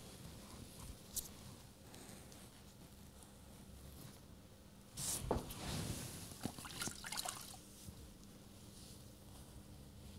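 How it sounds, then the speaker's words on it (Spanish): Lukewarm water running and trickling as product is rinsed off skin during a facial treatment, a soft steady flow with a louder splashing burst midway, heard alone without talk. "de aclarar el producto con agua tibia"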